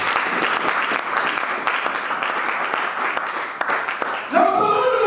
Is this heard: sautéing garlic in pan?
no